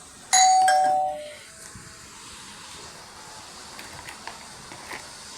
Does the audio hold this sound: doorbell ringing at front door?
yes